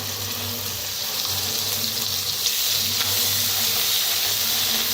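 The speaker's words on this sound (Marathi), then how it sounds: "तर मस्त असा मसाला भाजून घेऊया आपण" Ground masala paste roasting in a pan on low gas for an egg curry, giving a steady loud sizzling hiss close by that builds slightly over a few seconds, with a low hum underneath and no talking.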